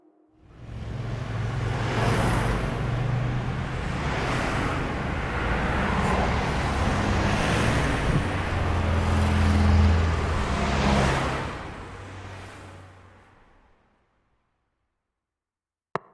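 Different types of cars passing close by one after another, a steady broadband roar with low engine hum that swells and fades, loudest midway, then dies away into silence.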